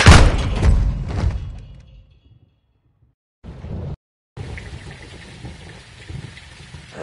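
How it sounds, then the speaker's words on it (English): Heavy rain in the Call of Duty Modern Warfare 2 campaign, a loud dense broadband downpour that fades into near silence, then returns as a steady hissing wash after a brief cut. "It's raining fucking hard."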